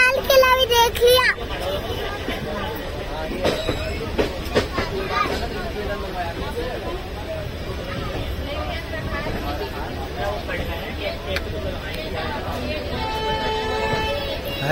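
Uttaranchal Sampark Kranti Express pulling into Old Delhi station, a steady rumble of rolling wagons with rail clatter, while people and children talk nearby.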